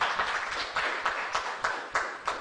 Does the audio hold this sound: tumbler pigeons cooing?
no